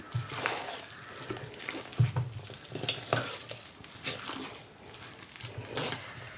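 A spoon stirs a thick cooked flour and onion batter for crispy vadiyalu, with rhythmic wet scraping strokes about once a second, close and moderately loud, with no talking.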